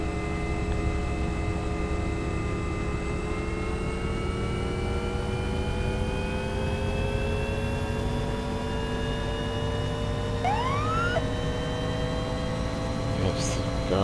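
A simulated aircraft engine in the X-Plane 11 flight simulator spools up, its tonal drone climbing gradually and steadily in pitch under a constant hum, with a brief whistling chirp near the end.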